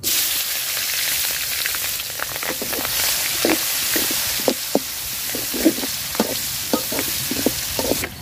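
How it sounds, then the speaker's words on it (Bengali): Steady oil sizzle of onion and chili frying, with scattered sharp clicks and scrapes of stirring throughout, close and moderately loud. "মাছ ভাজার তেলে পেঁয়াজ কুচি আর মরিচ কুচি দিয়ে দিলাম"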